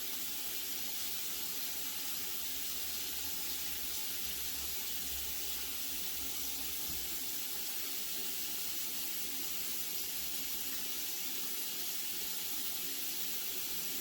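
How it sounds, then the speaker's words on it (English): Water running steadily from a sink faucet during handwashing, a constant faint hiss and gentle splash that continues unchanged with no talking. "I'm going to use the towel to close the faucet for water"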